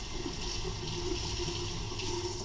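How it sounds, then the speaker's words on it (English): Rice paper rinsed under a cold kitchen tap, a steady hiss of running water splashing continuously nearby with no talk. "You take the rice paper and you rinse it under cold water."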